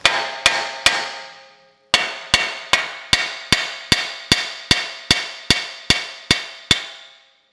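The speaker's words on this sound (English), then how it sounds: "When you see me striking the knuckle to break that loose" A hammer strikes a steel Jeep Wrangler JK steering knuckle again and again to break it loose, giving fourteen sharp ringing metallic blows. Three come first, then a short pause, then eleven more in a steady rhythm, close and loud.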